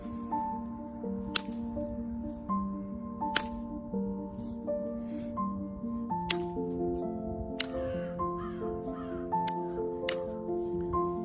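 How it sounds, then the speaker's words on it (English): Crows caw repeatedly in a forest, sharp calls near and far, spaced over steady background ambience with occasional drips and small taps. "It's crows, man."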